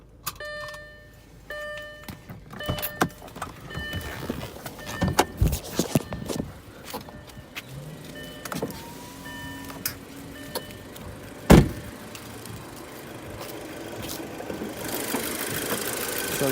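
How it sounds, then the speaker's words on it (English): An Audi engine idles up close after a faulty ignition coil was replaced, a steady low running hum with scattered clicks and one sharp knock, no talking. "car's back and running."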